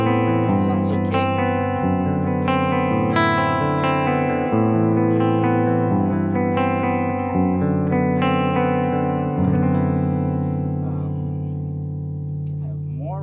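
A sustained electric guitar rings out in chords and single notes, washed in reverb, playing steadily before fading toward the end.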